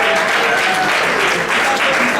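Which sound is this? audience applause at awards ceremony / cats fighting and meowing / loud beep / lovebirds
audience applause at awards ceremony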